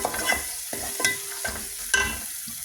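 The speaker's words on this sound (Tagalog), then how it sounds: "Gisa-gisa lang natin siya." Peeled canned tomatoes sautéing in a pan with green peas nearby: a close, bright sizzle broken by several distinct scrapes and clinks of a utensil stirring at an uneven rhythm.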